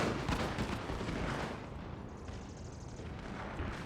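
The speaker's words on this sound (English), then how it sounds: "We might get some decent little volley here." Musket volley fire in the Napoleon Total War video game: a dense, rumbling crackle of many shots, loud at first and then thinning to a steadier, quieter roar of gunfire.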